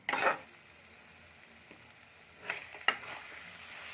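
Taro and potato chunks frying in masala for a village-style Odia crab curry, a soft steady sizzle with a few louder stirring scrapes at the start and near the end.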